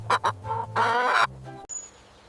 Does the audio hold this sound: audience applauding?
no